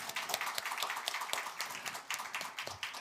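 A church congregation claps during a Sunday worship service at Emmaus Church, with scattered, uneven claps of moderate loudness and faint voices mixed in.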